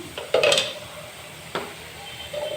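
Tomato dropped into a pan of sweet potato, a couple of sharp clatters and a short sizzle-stir burst, close and fairly loud, with a quieter scrape near the end.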